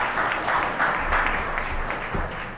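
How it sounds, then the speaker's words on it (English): Round of applause from the audience at a civic club program on police profiling in Oregon, a steady wash of clapping from a roomful of people at moderate level, continuing evenly without speech. "Let's give a round of applause for an excellent program."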